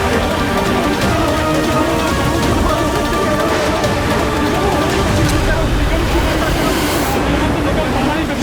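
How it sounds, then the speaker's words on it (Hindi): A storm with rain and thunder rages in a devotional drama scene, a steady, loud rush of rain and wind with low rumbling running continuously throughout. "तूफान तो कम जा रहा है,"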